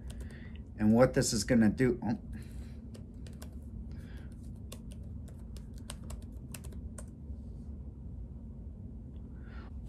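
Short burst of rapid typing on a Mac keyboard as a password is entered, crisp close key clicks lasting about a second amid a quiet room hum, followed by someone speaking softly.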